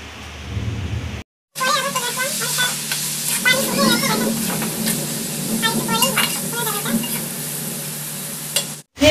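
Ash gourd bhaji fries in a pan, a loud, dense sizzle with spattering crackles and occasional stirring scrapes, heard close after a brief silence and cutting off near the end.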